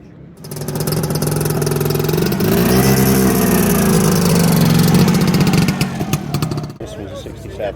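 A 1967 two-stroke 250cc single-cylinder motorcycle engine revs up and holds a loud, buzzing drone nearby at a classic motorcycle festival at Donington, then drops off abruptly.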